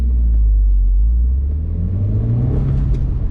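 An Audi TT accelerates during a hot lap on a race track, heard from inside as a loud, deep engine rumble whose pitch climbs steadily through the gear.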